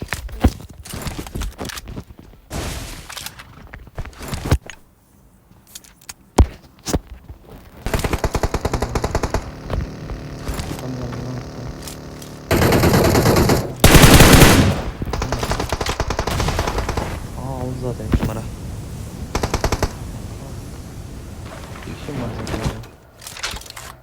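Gunfire in the mobile battle royale game PUBG Mobile, loud bursts of rapid automatic shots in several long stretches between single cracks, with footsteps and occasional talk.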